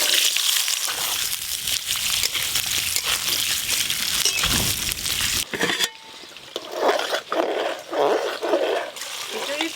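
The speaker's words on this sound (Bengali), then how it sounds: "মিক্স ভেজের জন্য প্রথমে আলুগুলো লাল লাল করে ভেজে নেব" Cut and washed potatoes for a mixed vegetable dish frying in hot oil, a close, loud bubbling sizzle with stirring clatter, easing to softer sizzling partway through while someone talks over it.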